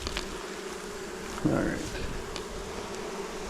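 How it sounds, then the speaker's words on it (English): Honey bees buzz around a nuc hive in a close, continuous hum with a louder swell partway through, while a person speaks briefly. "We got bees."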